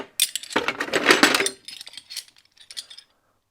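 A set of metal Allen keys handled and shuffled in a tool box, a dense burst of close metallic clinks and rattles that thins out into scattered light taps, with no talk.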